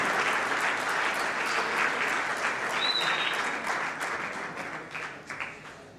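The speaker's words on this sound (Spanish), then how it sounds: "Por favor, un fuerte aplauso para darle la bienvenida." Dense, steady applause from an audience welcoming a speaker at a university conference talk, fairly loud at first and gradually fading toward the end.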